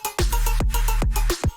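A heavy electronic synth sound from the Break Law drop by Skrillex and Boys Noize as Dog Blood, run through a vocal formant filter, pulsing in short loud wobbling hits with deep bass underneath.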